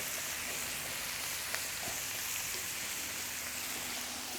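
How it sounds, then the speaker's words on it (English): Steady, dense sizzling of onions frying in a hot pan, a continuous crackling hiss with occasional small pops, close and moderately loud. "So let's put the onions in. Here they go. Look at them, how they are sizzling."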